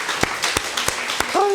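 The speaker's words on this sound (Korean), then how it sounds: "예수님께 영광의 박수 한번 합시다." A church congregation claps during a sermon, giving sharp hand claps in a steady rhythm under a sustained tonal background, ending in a rising voice.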